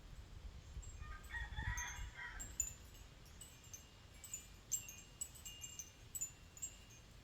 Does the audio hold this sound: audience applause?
no